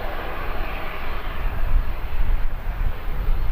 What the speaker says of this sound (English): A Ryanair making its way in from Alicante